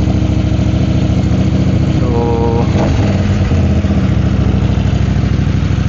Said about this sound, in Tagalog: Napainit ko na tong motor ko kanina